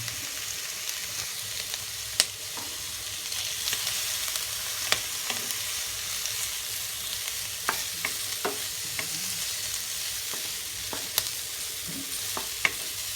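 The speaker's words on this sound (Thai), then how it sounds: "เอาหมูมาล้วนก่อนนะครับสามชั้นให้น้ำมันมันออกก่อน" Pork belly sizzles steadily in hot oil as it is stirred in a pan, with scattered sharp clinks and scrapes of the utensil against the metal over a constant frying hiss; no one speaks.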